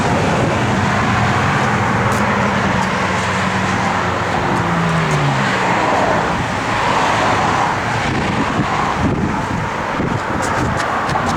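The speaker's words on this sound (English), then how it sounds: "It really runs and drives excellent." A 1955 Volkswagen Beetle on 15-inch chrome Porsche wheels with chrome tailpipes drives along, its steady engine and road noise heavy with wind buffeting over the microphone, loud and continuous.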